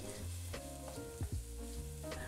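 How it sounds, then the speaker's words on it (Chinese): Minced pork shoulder and minced chicken breast sizzle and crackle in hot oil in a pan, with a steady frying hiss broken by a few scraping stirs, close and fairly quiet. "接着起油锅，下猪梅花肉糜，还有刚做鸡肉饼留下的一点鸡胸肉糜"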